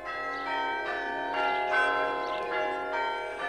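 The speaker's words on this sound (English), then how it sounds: "The faith of centuries is in the sound of Easter bells that ring all Norfolk round." Church bells ring out at Easter across the Norfolk countryside, a sustained peal of repeated metallic strikes with long overlapping resonance, heard clearly and without voices.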